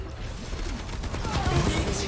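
Rapid automatic gunfire from a turret in the Overwatch video game, a dense burst of shots layered with other game effects, under a voice talking.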